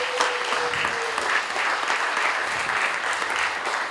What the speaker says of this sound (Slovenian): zato en poseben aplavz